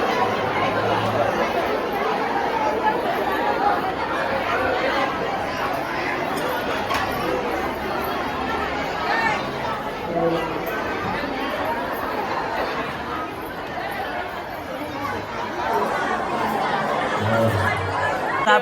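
A dense crowd chatters and laughs at a communal meal during a Deepotsav festival, many overlapping voices close and loud, continuous throughout with occasional nearby voices standing out.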